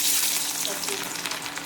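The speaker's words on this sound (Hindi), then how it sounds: "और अब इसमें डलेगा तड़का" Garlic tempering in hot oil sizzles and crackles loudly, a bright hissing spatter that stays strong and slowly eases over a second or two.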